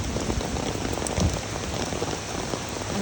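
Steady summer rain pours during a thunderstorm in New York, a dense continuous hiss of drops striking surfaces close by, with a slightly louder patter midway and no voices.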